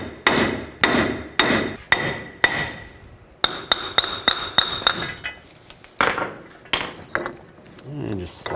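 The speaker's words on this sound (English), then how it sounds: "Now take a hammer and just hit it from the back side" Hammer blows strike a front wheel hub from the back side on a 2002-06 Chevy Avalanche, about a dozen sharp metallic hits in quick bursts, some ringing, loud and close with no talk.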